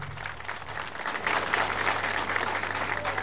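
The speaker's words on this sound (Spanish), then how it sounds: "Recibimos con un fuerte aplauso" A crowd applauds at a public event welcoming Bolivia's president in Tiraque, Cochabamba, a dense wash of clapping that swells after the first second and carries on steadily to the end.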